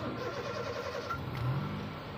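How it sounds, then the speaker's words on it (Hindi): A Honda City car's engine runs after starting, a steady low mechanical hum with a slight rise in level midway, heard fairly faint and continuous in the background without talk. "गाड़ी हमारी हो गई है स्टार्ट"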